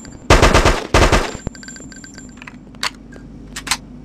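Gunfire in the PC game Hitman: Codename 47 on the training mission: two loud, close rapid bursts open the clip, followed by faint mechanical clicks and a few short sharp sounds, with no talk.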